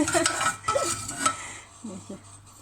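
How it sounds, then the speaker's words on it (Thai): Salted fish chili paste pounded in a mortar, several sharp knocks in quick succession followed by softer scraping thuds, close and without talk. "ใส่ปลาเค็มลงไปแล้วก็โขกโขกโขก"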